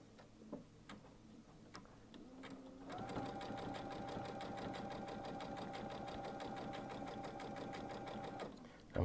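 A Baby Lock sewing machine fitted with a 7 hole cording foot stitches slowly and steadily, a close, even run of rapid ticking and whirring lasting several seconds after a few quiet handling clicks.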